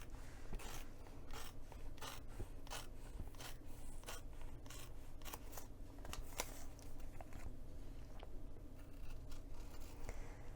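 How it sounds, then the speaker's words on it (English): Scissors snip through fabric along a marked line during a cork eyeglass case project, giving a steady run of crisp, close cuts, each blade closure sharp and quick over a low hum. "I'm just going to go ahead and cut directly on top of the line"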